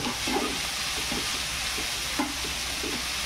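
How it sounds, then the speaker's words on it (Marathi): Onion and tomato cook in a pan for a dhaba-style mushroom masala, giving a constant close sizzle with a few soft stirring scrapes and taps. "टोमॅटो आणि कांदा एकदम शिजतोपर्यंत, कलर चेंज नाही होत तोपर्यंत भाजत राहायचं आहे आपल्याला"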